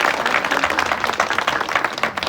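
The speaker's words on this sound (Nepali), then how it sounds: "एकचोटि जोरदार तालीले उहाँहरूलाई धन्यवाद" A crowd at a gas distribution gathering gives a round of applause, steady dense clapping from many hands, fairly close and unbroken throughout.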